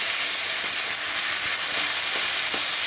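Potatoes and onions frying in a pan, a continuous close sizzle with faint occasional stirring clicks, no voices.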